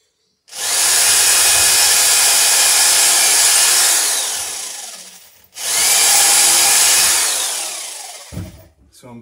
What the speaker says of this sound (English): So I'm pulling the drill bit out and then going again to